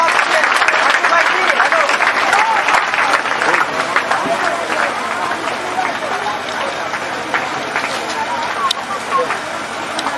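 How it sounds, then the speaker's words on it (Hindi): A large audience at a Bhagwat Katha gathering breaks into dense, sustained applause that fills the hall, loud and continuous and fading slightly toward the end. "तो फिर ताली बजाओ ना।"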